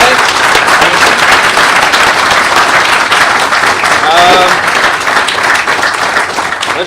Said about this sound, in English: Let's give Dan a big hand of applause for coming out tonight.